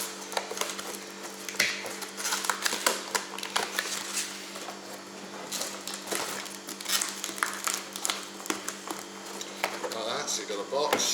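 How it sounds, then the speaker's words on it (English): A cardboard chill box for a delivery being folded up by hand, with crinkling, tapping and flapping cardboard sounds in uneven bursts close by, while a person talks over it. "So these, it's a typical box, they just fold up."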